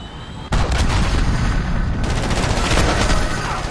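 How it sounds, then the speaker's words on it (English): An allied cruise missile launches in Call of Duty: Modern Warfare, a sudden loud roaring blast that starts abruptly and keeps rumbling heavily through the rest of the moment. "Allied cruise missile launched"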